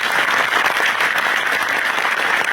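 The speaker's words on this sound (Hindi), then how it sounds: "जोरदार तालियां हो जाए" Loud, dense applause fills the room at an FLP India goal-setting event, a thick continuous wash of many hands clapping close by with no speech on top.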